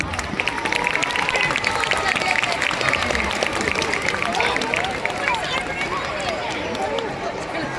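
An audience claps at the opening of a school carnival, a dense burst of applause mixed with crowd hubbub and voices nearby.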